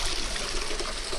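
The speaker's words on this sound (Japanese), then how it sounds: "ちょっと水の音大きいですけども" Water runs steadily inside Amawaka Tunnel in Kyoto, a soot-blackened, crumbling tunnel, with a continuous close trickling rush that echoes off the walls and has no talk over it.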